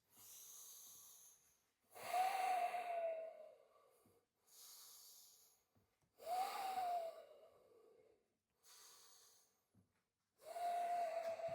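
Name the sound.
slow deep breathing during yoga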